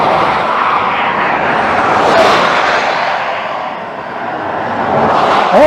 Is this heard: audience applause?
no